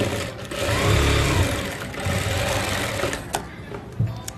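A sewing machine stitches a blouse front dart, whirring continuously and close by with small rhythmic knocks and slight shifts in speed.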